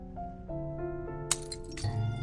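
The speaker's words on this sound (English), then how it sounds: "Muffled shattering of glass interrupts their reading." Glass shattering inside a room in Reverse: 1999, heard as one muffled crash with brief tinkling debris, then a second smaller clatter, set against sustained soft musical tones.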